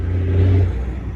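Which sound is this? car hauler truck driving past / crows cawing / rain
car hauler truck driving past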